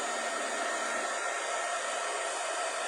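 A handheld heat tool blows steadily across a Christmas card to dry it before snowflakes and heat embossing are added, producing a loud, constant airy whoosh with no talking for the whole stretch.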